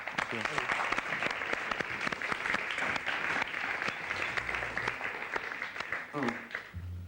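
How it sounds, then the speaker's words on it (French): A television studio audience applauds a French rapper, steady clapping running throughout with people talking over it and low rumbles underneath. "on vous applaudit en tout cas"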